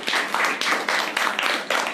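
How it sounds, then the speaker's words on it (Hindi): A small group claps together in bursts, roughly five rhythmic swells of hand claps over two seconds, close and fairly loud with no talking. "चलिए ताली बजाइए दीदी के लिए।"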